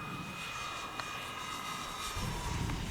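An FMS Scorpion 90mm EDF RC jet comes in to land, its ducted-fan whine a steady, moderately distant high-pitched hum that grows slightly rougher and louder toward the end.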